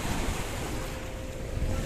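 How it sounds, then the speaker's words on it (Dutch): Running water rushes and churns in a continuous broadband wash, loud and close, with wind buffeting the microphone and no voices. "Ja, maar het is stromend water."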